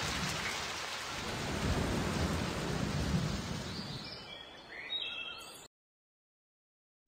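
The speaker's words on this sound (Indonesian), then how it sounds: "Badai sudah turun." A cartoon thunderstorm of steady heavy rain with rolling thunder, a broad hissing downpour that swells and fades before cutting to silence.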